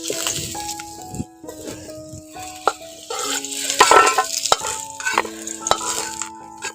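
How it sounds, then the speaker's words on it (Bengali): Onions are dropped into hot oil and fry with a soft, crackling sizzle, heard under steady background music with brief stirring clatter. "গরম তেলের মধ্যে পেঁয়াজটা দিয়ে দিচ্ছি"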